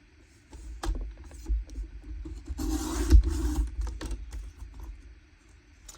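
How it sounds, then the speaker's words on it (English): Paper being trimmed from the rough edge of handmade junk journal book pages, a brief burst of dry rustling and cutting with a few scattered taps and handling sounds around it, close and fairly quiet. "I'm just trimming the rough edge"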